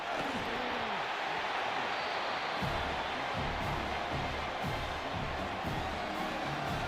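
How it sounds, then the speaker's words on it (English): A stadium crowd roars in a college football video game, a broad, steady wash of cheering that holds throughout at moderate level, with faint low rumbles underneath. "Look at the crowd, man."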